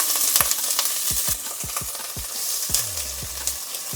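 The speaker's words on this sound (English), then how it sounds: "it looks like our pan is nice and hot now, or getting hot. And we're gonna go in with some of the shrimp shells" Shrimp shells sizzle and crackle in hot olive oil in a pan, a constant close frying hiss with sharp pops and occasional stirring knocks, no voices.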